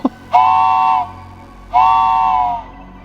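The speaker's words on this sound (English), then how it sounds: "These train whistles are pretty loud" A train whistle sounds twice in a railway tunnel, each blast a loud, steady tone lasting about a second, separated by a short gap and ringing slightly afterward, with no voices.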